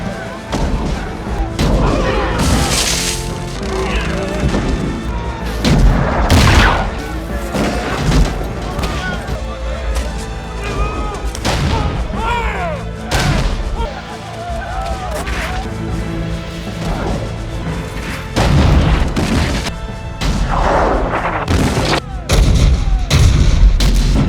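Heavy artillery bombardment mixed with gunfire in a battle setting at a fort, with loud repeated booms and crackling shots overlapping densely throughout, a dramatic continuous barrage.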